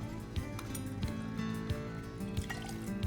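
Tito's Handmade Vodka trickles from a measure into a cocktail shaker that already holds lemon juice and syrup, a soft, close, steady liquid pour with a few faint glassy clinks and no talking.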